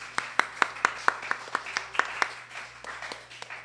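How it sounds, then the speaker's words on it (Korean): A small group claps to welcome a newcomer at a church youth service, with about a dozen distinct claps in a quick, fairly even rhythm that softens toward the end. "우리 박수로 한번 환영할까요?"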